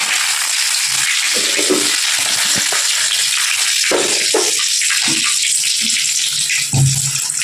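Curry leaves and cumin crackling in hot oil while tempering idli, a loud, dense, steady sizzle close by throughout, with faint stirring bumps beneath it.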